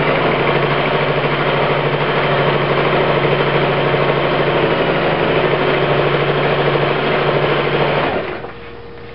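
Singer Simple sewing machine stitching fabric, running in a loud, steady rapid whir for about eight seconds before stopping, leaving a faint hum.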